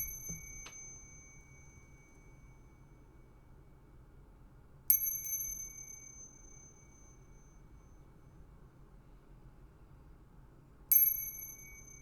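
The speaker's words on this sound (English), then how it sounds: "I'm going to ring the bell. It might be loud" A small bell is struck three times at wide intervals, each one a bright, clear ring that slowly fades in a quiet room.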